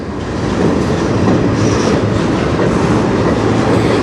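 A CN freight train rolls steadily past at close range, a loud continuous rumble of rail wheels with a rhythmic clickety-clack and faint wheel squeal, with no voices.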